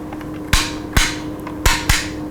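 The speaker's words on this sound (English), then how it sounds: "it clicks between positions" Sharp mechanical clicks from the selector switch of a TommyBuilt T36K carbine, four crisp snaps in two pairs, close and fairly loud over a faint steady hum, with no talking.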